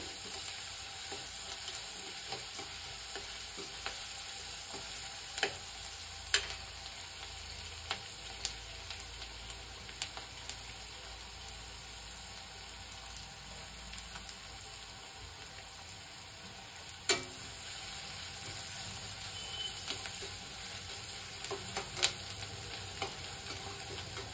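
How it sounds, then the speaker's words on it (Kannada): Onions roast in oil in a pan for egg masala curry, a low steady sizzle with occasional scrapes and stirs, heard alone throughout. "ಈರುಳ್ಳಿ ಚೇಂಜ್ ಆಗೋ ತನಕ ರೋಸ್ಟ್ ಮಾಡ್ಕೋಬೇಕು ಎಣ್ಣೆಯಲ್ಲಿ."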